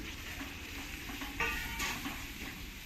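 Water poured into a pan of hilsa fish curry in mustard sauce gives a soft, continuous sizzle and bubbling, with a brief brighter splash of spattering in the middle; the sound is close but fairly quiet, with no speech.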